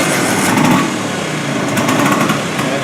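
A Planet Vespa scooter's small engine, just kickstarted after shipping, running loud and close with a steady high buzzing idle and a slight rise in revs early on.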